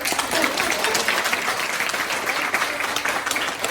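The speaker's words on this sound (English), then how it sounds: "a round of applause for our assistant" An audience at an Indonesian cooking demonstration during a winter bazaar in Oslo applauds the cooking assistant, a steady, dense round of clapping that holds evenly for several seconds.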